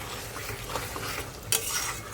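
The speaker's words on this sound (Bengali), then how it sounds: "এই যে এখানে মশলা কষাচ্ছি, মাংসর প্রায় কষে গেছে" Spices and meat sautéed and stirred in a pan, a busy sizzle under repeated scraping strokes and a sharp metallic clink near the end, no voices.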